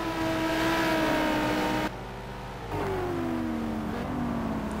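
A Corvette race car in a racing video game, its engine whining at high revs, dropping sharply as it shifts or lifts off, then building again in a steady rising drone.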